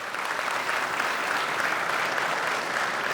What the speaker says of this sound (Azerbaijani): Gəlin alqışlayan onları.